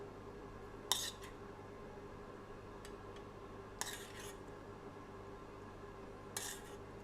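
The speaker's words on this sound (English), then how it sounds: "Going to take our succotash and just spoon it around your mash." Spoon scraping and clinking on a plate while serving succotash around mashed potato for pork escalopes, three brief soft clinks spaced a few seconds apart over a quiet kitchen background.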